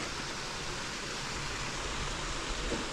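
A steady, broadband rush of falling water, constant and moderately loud, like a waterfall heard from nearby on the Cold Springs mountain bike trail.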